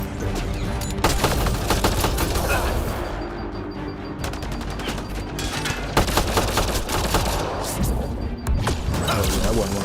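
Gunfire in Mass Effect: Andromeda, with rapid bursts of shots and sharp impacts cracking in clusters throughout, a loud, dense fusillade with someone talking faintly in places.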